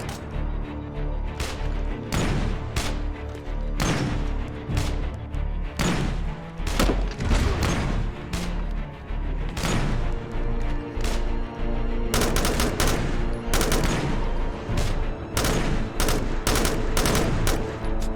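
Gunfire in the zombie survival game State of Decay, a long run of sharp shots spaced irregularly and then tightening into rapid bursts, loud and dense with thuds mixed in and no talk over it.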